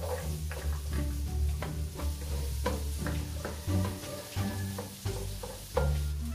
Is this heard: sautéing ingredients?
yes